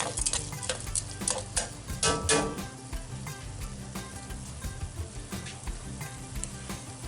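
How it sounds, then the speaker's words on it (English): Rice stir-fried and toasted in a paella pan over an open fire, with soft scraping stirs and clicks of a utensil against the pan over a low, steady sizzle, busier at first, then settling. "at this point we want to kind of stir fry the rice a little bit, kind of like we would do a risotto"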